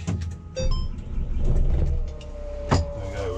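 A Merlo 42.7 telehandler's diesel engine turning over and catching, with a whirring starter and clunks giving way to a low idling rumble heard close up from inside the cab.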